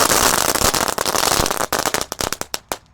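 Dino Pratek egg firecrackers set in a circle go off on the night of takbiran, a dense burst of loud crackling that thins into separate sharp pops.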